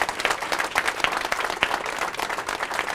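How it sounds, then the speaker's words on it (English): Warm applause for a speaker at a book launch, a close, dense crowd clapping continuously with sharp individual claps standing out, steady and fairly loud from start to finish. "can we just give Mark another round of applause?"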